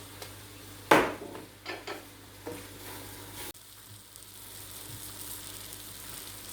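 Salted onions sweat in a pan for French onion soup with a soft, close sizzle, broken early on by a few sharp clinks and knocks of a utensil against the pan.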